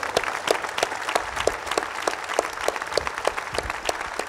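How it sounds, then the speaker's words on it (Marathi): An audience at an evening interview event bursts into steady, loud applause, dense rhythmic clapping that carries on throughout with a faint murmur of the crowd beneath. "आजच्या या रात्रीची सांगता करताना पहिल्यांदा ताईसाठी जोरदार टाळ्या होऊ देत."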